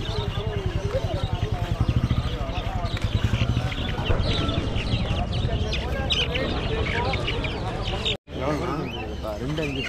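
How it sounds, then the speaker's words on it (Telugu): Country chickens clucking among a crowd at a busy Chennai pet market on Broadway, continuous overlapping clucks and bird calls beneath steady talk and market chatter, close and fairly loud. "నాటుకోళ్ళ ఏంటి ఇవి మొత్తం"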